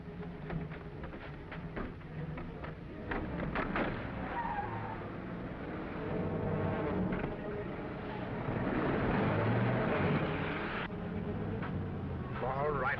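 An aircraft motor drones steadily throughout, a rough, continuous engine roar that swells and eases under overlapping voices in a 1942 film soundtrack.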